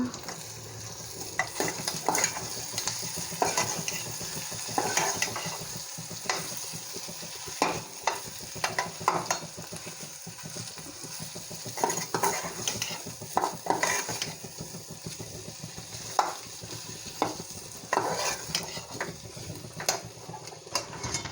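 A spatula scrapes and stirs potato bhaji in a pan, repeated irregular scraping strokes over a soft, continuous frying sizzle, close and moderately quiet with no talking.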